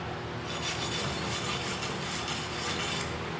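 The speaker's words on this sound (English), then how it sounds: "Take the wire brush." A wire brush scrubbing silicone residue off a MIG weld bead on horizontal padding practice, a continuous close, harsh rasping scrape with a fast back-and-forth rhythm and no speech.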